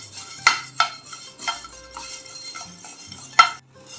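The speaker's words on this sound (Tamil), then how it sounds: "தனியாவை வறுத்தெடுத்துக்கலாம். நல்லா பொன்னிறமாக வறுத்தெடுத்துக்கலாம்." Coriander seeds dry-roasted in a pan, stirred with a spoon in a few distinct scraping clinks against the metal, close and sparse with quiet gaps, no sizzle and no voices.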